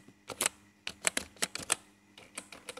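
Quiet, close keyboard typing while a password is entered, with clustered key clicks in short bursts and brief gaps between them.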